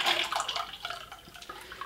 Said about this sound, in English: So we go for a nice long pour.